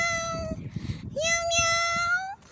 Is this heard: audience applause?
no